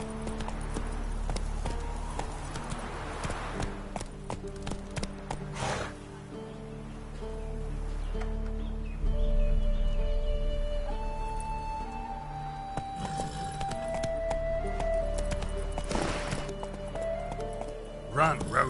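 Hooves of Roach, a horse in a video game, clip-clop at a run amid game music and ambient noise, while voices talk over the galloping.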